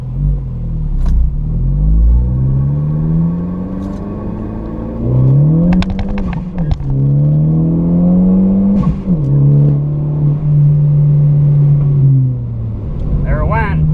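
A 2016 Ford Focus ST drives on a test drive, its engine droning loudly from inside the car and rising and falling in pitch as it accelerates and shifts, with brief clunks between gears.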